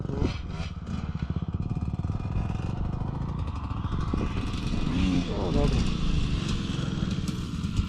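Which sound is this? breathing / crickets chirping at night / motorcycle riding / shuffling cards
motorcycle riding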